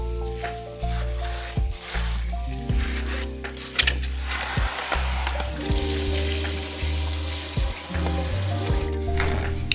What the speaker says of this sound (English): So I'll just dip them, wash them properly, and take them out back.